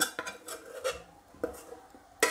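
Spoon scraping and clinking in a pot while stirring a sweet coconut rice mixture, a few short uneven strokes close by with a sharper clank at the end.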